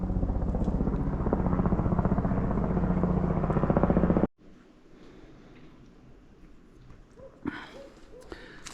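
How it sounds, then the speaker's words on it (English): A loud helicopter passes overhead near an outdoor site in Sedona, its steady thudding drone filling the first half and then cutting off abruptly, leaving faint outdoor ambience with a few brief knocks. "Except for the loud helicopter."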